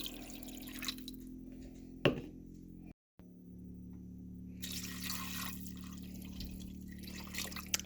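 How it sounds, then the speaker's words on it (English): Water is poured into a soup pot from a measuring cup in a home kitchen, a soft, quiet stream with a brief clatter partway through and a second pour near the end. "So that's 4 cups of water."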